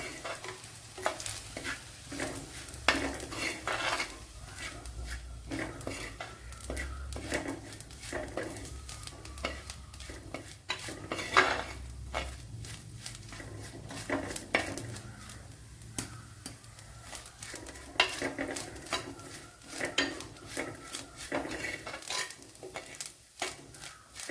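Ingredients sizzle in a pan for Kerala Vaala fish curry, a soft crackling fry broken by repeated scraping stirs of a spoon, with faint bird calls in the background.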